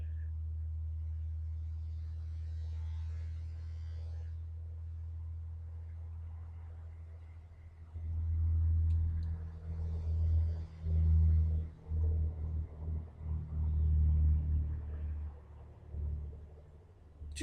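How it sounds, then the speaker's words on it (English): A loud truck passes by, its low engine rumble swelling near the middle and pulsing heavily for several seconds before fading, with faint talk in the background early on. "Did you guys hear how loud that truck was?"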